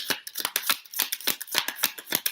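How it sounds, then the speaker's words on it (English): Tarot cards are shuffled by hand, giving a quick run of crisp riffling snaps in an irregular, fast rhythm, close and fairly loud with no voice over it. "I'm gonna shuffle again and see if any card pop out."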